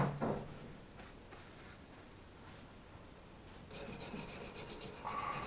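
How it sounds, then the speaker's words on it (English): Greasy thermostat housing from a Ford OBS truck scrubbed in a tank of diesel: a quiet, rasping brush-on-metal rubbing that comes in soft strokes, then grows busier and louder toward the end. "Now I'm going to dunk it in my my diesel tank, scrub it up, get it clean, and throw it back on."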